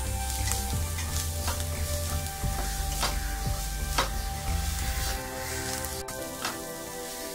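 Onion frying in a pan with salt for dudhi rice, a constant close sizzle broken by regular stirring clicks and scrapes, no talking.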